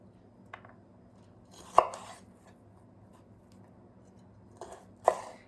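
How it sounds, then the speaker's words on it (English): A paring knife cuts broccoli into small florets on a board: a few sharp, close chops in two quick pairs, separated by quiet pauses with no talk. "So we want to cut that pretty small."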